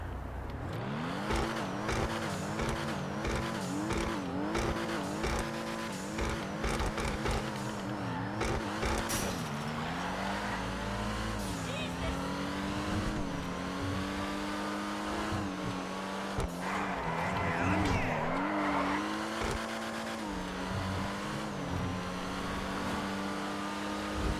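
A Dewbauchee Rapid GT X sports car drives at night in GTA Online, its engine revving hard and climbing through repeated gear changes, loud and close throughout with steady road roar beneath.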